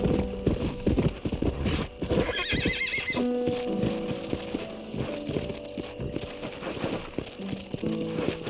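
Galloping hooves and repeated whinnies from a horse in Red Dead Redemption, played on PS5, with a steady clip-clop rhythm, loud and close, alongside other game sounds.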